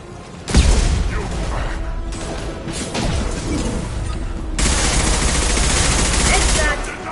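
Squads trade gunfire in Mass Effect 2 combat: dense, sustained automatic fire with overlapping bursts and impacts that swells louder midway, with voices partly buried under the shooting.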